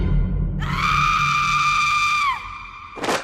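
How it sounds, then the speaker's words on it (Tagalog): A woman lets out a single long, loud scream that holds for almost two seconds, followed by a short burst of noise. "Biglang sumigaw si nanay."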